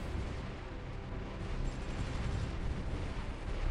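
Mortar fire in the Supreme Ruler 2020 strategy video game, heard as a steady, dense low rumble of distant artillery booms rolling without a break.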